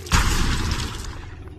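A flame fist explosion in the VR dungeon crawler Ancient Dungeon VR: one heavy booming blast bursts out near the start, then rumbles and fades over the next second and a half.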